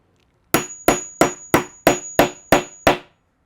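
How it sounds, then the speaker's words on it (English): A hammer strikes a metal rivet setter on a handbag rivet eight times in a steady, even rhythm. Each blow is sharp and ringing, close by and loud, with no talking. "This is the part we're going to hit with the hammer"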